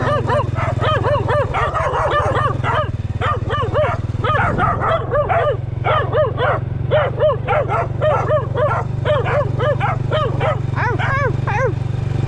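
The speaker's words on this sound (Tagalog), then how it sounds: "Nalubong tayo dalawang aso." Two dogs bark repeatedly and excitedly, close by, over a steady low engine hum, on a muddy mountain road.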